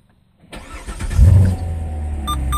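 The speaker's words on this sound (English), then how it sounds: "I guess I'll go ahead and start it up." A 2015 Corvette Stingray C7 Z51 V8 cranks and fires after a moment of quiet, flaring to a loud deep rev before settling into a rumbling idle close by.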